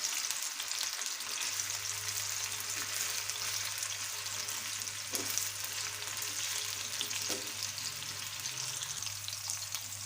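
Chicken gola kababs fry in oil over a medium flame with a steady, dense sizzle that stays even throughout, with a low hum underneath and a few faint taps.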